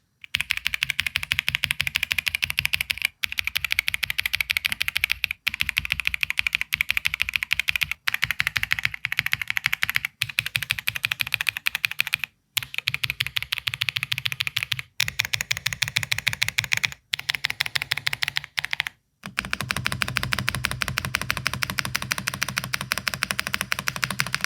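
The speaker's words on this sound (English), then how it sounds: "I'm gonna hold my mic close to the keyboard so we can hear the sounds of the keyboard" Close-miked typing on a budget M100 mechanical keyboard fitted with MK Cream linear switches, a dense, continuous clatter of keystrokes with brief pauses every few seconds and no talking.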